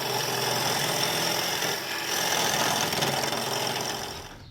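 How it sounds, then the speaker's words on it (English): Wood lathe spinning a piece of English ash, a steady broadband whir and hiss of the tool cutting the turning workpiece, continuous and moderately near before trailing off at the end. "I'm going to quickly put that on the lathe and turn it to make a base"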